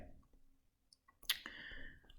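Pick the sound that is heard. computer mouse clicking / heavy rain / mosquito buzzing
computer mouse clicking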